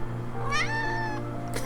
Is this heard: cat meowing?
yes